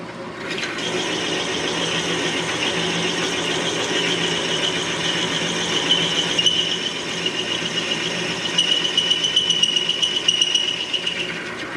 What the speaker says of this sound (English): my drill is still cutting quite nicely